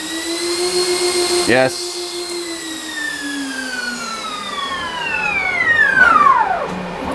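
Electric ducted fans of a VTOL drone hovering, a loud, high whine whose pitch slides gradually, with a brief clatter early on and a short spoken word.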